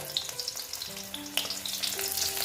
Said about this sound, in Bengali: আমি এইবার রসুনগুলো দিয়ে দিচ্ছি আর শুকনো লঙ্কা